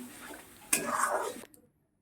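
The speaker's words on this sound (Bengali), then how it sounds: "এইবার আমি সমানে এটাকে নাড়তে থাকবো" A spoon stirs turmeric and salt into food in a pan, making one short, close scraping swirl of under a second before falling silent.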